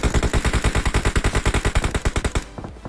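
Rapid automatic gunfire in the PUBG Mobile battle royale game, a loud sustained burst of evenly spaced shots lasting over two seconds before cutting off abruptly.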